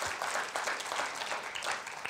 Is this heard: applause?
yes